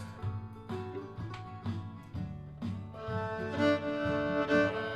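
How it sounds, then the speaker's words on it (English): A fiddle plays a Georgia shuffle bowing rhythm, with repeated short bowed strokes in a driving, syncopated pattern, near and moderately loud with no talking. "The Georgia Shuffle sounds like this"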